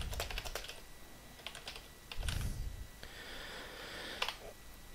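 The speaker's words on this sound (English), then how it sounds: "excuse my typing" Typing on a computer keyboard, with bursts of quick close key clicks, short pauses between them and a few louder thumps, no voices.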